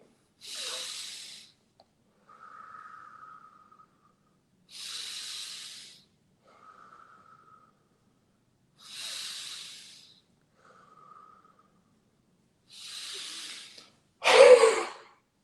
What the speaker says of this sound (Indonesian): Baru kita sekarang lakukan deep breathing.